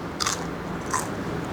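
Crunchy dried fried wonton bitten during a chicken noodle mukbang, giving two short close crisp crunches over a quiet background.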